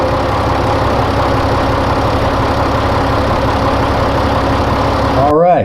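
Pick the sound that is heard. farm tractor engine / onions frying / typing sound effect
farm tractor engine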